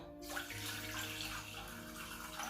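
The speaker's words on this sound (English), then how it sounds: "So I'm going to pour in generous amounts of water." Clean drinking water poured in a steady, continuous stream into a cooking pot, a full splashing rush that runs throughout at close range with no talking.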